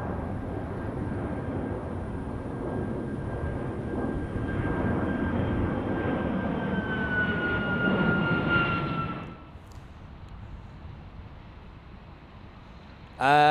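A Boeing test jet departs Boeing Field in Seattle, its engines giving a loud, sustained roar with a rising whine. The roar holds steady, then drops sharply to a distant rumble near the end.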